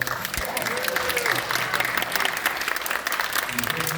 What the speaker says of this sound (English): Give a big round of applause to you and you and you.